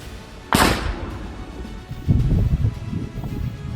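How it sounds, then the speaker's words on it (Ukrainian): A sudden loud blast as police bomb disposal experts in Ukraine's Zhytomyr region destroy a Russian missile warhead, followed by a rumbling outdoor tail, with some wind and movement noise around it. "Увага, вибух."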